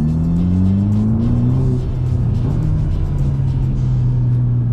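A deep, throaty Ferrari Roma F154 engine rumble idles and swells slightly, with a low pitch that slides upward then settles into a steady growl.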